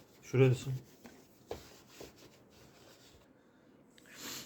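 A cloth wipes the air-exhaust area of a Miele Classic C1 vacuum cleaner, kept only slightly damp. Soft, faint rubbing strokes come in short bursts, with a voice murmuring briefly near the start.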